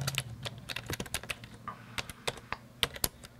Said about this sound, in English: His fingers sweeping across broken-in keyboards.